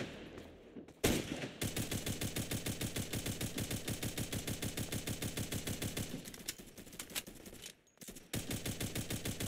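Rapid automatic gunfire from a video game rattles in long sustained bursts, briefly cutting out twice, fairly quiet and with no talk over it.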